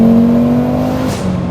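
A 510 bhp five-cylinder turbo Audi S2 Cabriolet holds a loud, steady engine drone up close for about a second, then the note drops and fades with a faint rushing whoosh.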